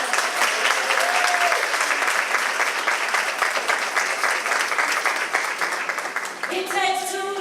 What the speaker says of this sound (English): Please give her a applause.